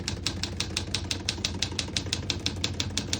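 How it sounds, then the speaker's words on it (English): Rapid, steady keystrokes on a 1954 Smith-Corona Silent-Super portable typewriter, about five clacks per second, close and crisp over a low background hum with no talking. "We're going to keep it on single for now and finish typing."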